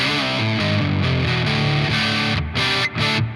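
Electric guitar through a Donner Pocket Go with its distortion turned up: a dense, crunchy run of chords played close and loud, with two brief gaps near the end.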